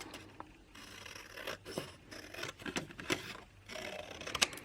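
Scissors snip through paper along a drawn line, a run of close, quiet crisp cuts and rustles in an uneven rhythm with brief pauses between strokes.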